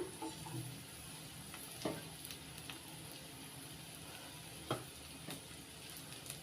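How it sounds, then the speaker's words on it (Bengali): Capsicum and carrots are stir-fried in a pan for vegetarian paneer chowmein, giving a faint sizzle with a few soft scrapes of the spoon against the pan, heard close and quiet with no talking. "ক্যাপসিকামটা দিয়ে একটু নাড়াচাড়া করে নিচ্ছি"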